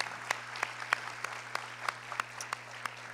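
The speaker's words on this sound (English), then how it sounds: "let's give a round of applause to all of our first responders" Applause for first responders at an event, heard as fairly faint, sparse, evenly spaced claps over a steady electrical hum.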